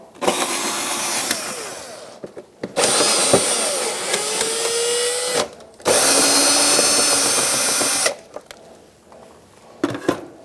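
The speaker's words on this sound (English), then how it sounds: "I'm going to take out these 3 screws here with a Phillips head as well." Power driver backing out Phillips screws from the inner fender liner of a 2002-2006 Honda CR-V, three loud whirring bursts of a few seconds each separated by short pauses and clicks.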